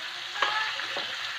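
Cabbage frying in a pan and being stirred, a steady soft sizzle with a couple of brief scraping stirs, no talking.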